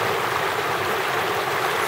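Water of Browns Creek flows in a constant, broadband rushing wash, close and steady with no breaks and no voices.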